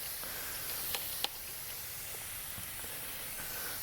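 A garden hose set to a fine mist sprays steadily onto an e-bike during a winter wash, a soft continuous hiss with a few faint ticks and taps and no voices.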